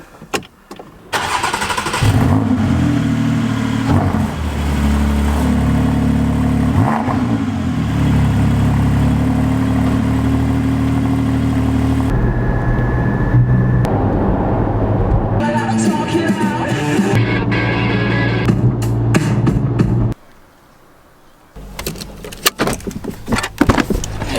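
A Porsche GT4 sports car on a track day: the engine starts and runs steadily with a strong, loud drone for most of the stretch, then cuts out, followed by door and interior handling noises.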